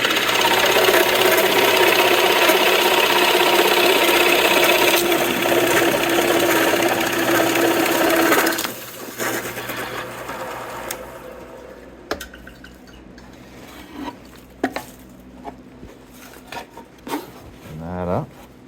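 A 1.5 inch Forstner bit bores into wood while a tree swallow nest box is built, giving a loud, steady grinding drone for about eight seconds before it stops, followed by scattered small knocks and scrapes.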